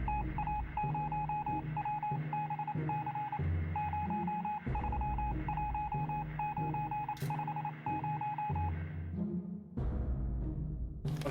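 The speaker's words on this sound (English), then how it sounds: "I was letting that play out for anyone who wants to try to translate that. Because I don't know Morse code." A radio in the game 60 Seconds! sends Morse code as a single high beeping tone, tapping out short and long pulses in an irregular rhythm over a steady low electronic hum for several seconds.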